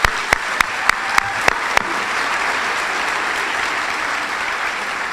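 Audience applause at a small business of the year awards ceremony: a few sharp early claps, then steady, fairly loud clapping from a crowd that continues evenly to the end.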